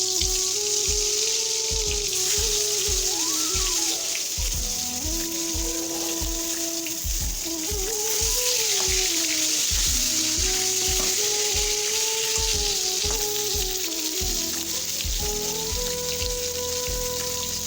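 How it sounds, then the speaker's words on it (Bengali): Pointed gourd (potol) pieces fry in a covered pan, a steady close sizzle and crackle running throughout with faint clinks over the top, no talking. "পটলটাকে ঢেকে ঢেকে ভেজে নেব 5 মিনিটের জন্য"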